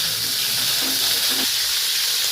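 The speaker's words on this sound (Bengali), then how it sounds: "এবার আমি এই কপি আর আলুগুলোকে আলাদা আলাদা ভেজে নেব।" Cauliflower florets sizzle in hot oil in a kadai with a steady, close, even frying hiss that runs without a break.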